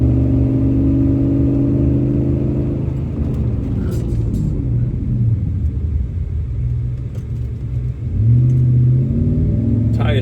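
A Ram 1500 pickup with a big front brake kit brakes hard from 60 down to 25, its engine note dropping away under road rumble before the engine picks up again.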